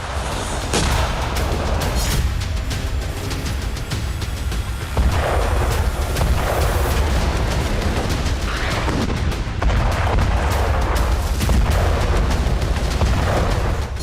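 Night attacks on Crimea targeting an oil depot and oil tankers: a continuous barrage of loud booming explosions and artillery-like blasts, overlapping heavily and rolling on without pause for the whole stretch.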